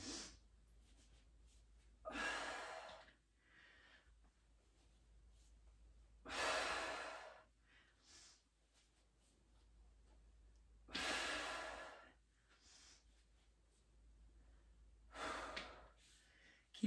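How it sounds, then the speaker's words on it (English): Heavy breathing during a full-body strength workout, with four loud, rough exhales spaced several seconds apart and softer inhales between, close and alone. "I'm gonna breathe through this one."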